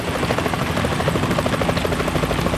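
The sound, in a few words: helicopter approaching in video game Metal Gear Solid 2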